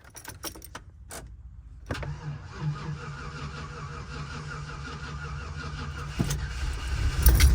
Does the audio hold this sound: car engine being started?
yes